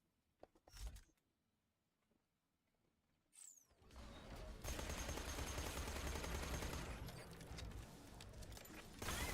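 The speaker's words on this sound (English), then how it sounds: "SMG." SMG fire in the video game Borderlands Pre-Sequel: after a few quiet clicks and a rising whoosh, a continuous dense roar of rapid shots takes over and holds loud to the end.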